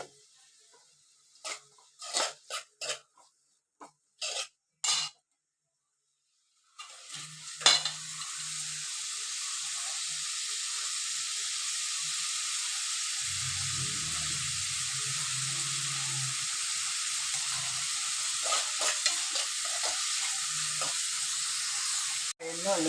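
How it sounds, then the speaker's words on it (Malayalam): Onions sautéing with salt in a pan for a Kerala-style roasted-coconut chicken curry. A few sharp knocks come first, then a steady, close sizzle that holds to the end, with faint stirring scrapes. "സവാള നല്ല ഇളം നിറമാകുന്നത് വരെ വഴറ്റി കൊടുക്കണം."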